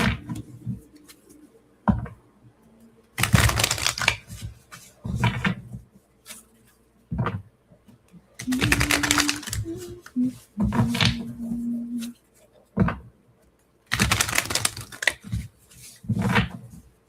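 Tarot cards being shuffled by hand, in repeated short bursts of dry papery riffling and rubbing separated by quiet pauses, close to the microphone.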